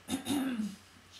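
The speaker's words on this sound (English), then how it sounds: "Clear my throat." A person clears their throat once, a short, rough rasp up close in a quiet room, with no words spoken.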